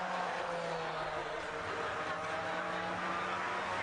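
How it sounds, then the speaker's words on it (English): Race car engine at the Simola Hillclimb King of the Hill event, a steady distant drone held at a constant pitch throughout, fairly faint, with no talk over it. "This car just sounds so magnificent"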